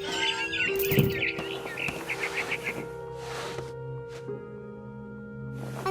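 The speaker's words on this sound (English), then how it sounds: "Then I heard chirping outside my window. It was a barn swallow going back to her nest." A barn swallow chirps outside a window in the video game What Remains of Edith Finch, bright repeated tweets layered over a steady game ambience and music bed, with scattered brief calls.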